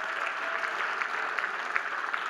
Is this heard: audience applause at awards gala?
yes